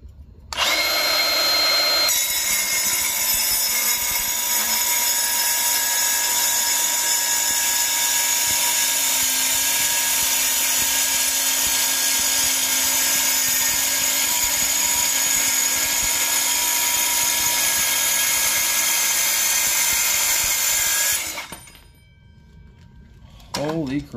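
Milwaukee M18 Fuel cordless circular saw cutting through 3/8 inch steel plate: a loud, sustained high-pitched grinding whine that holds steady for about twenty seconds, then spins down abruptly and is followed by a brief voice.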